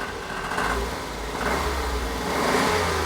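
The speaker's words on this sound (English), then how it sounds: "See, sounds quite sweet revving." A Smart car engine, thought to have a gearbox fault, revs in several swells rising and falling over a steady idle. It is close and loud with no talk.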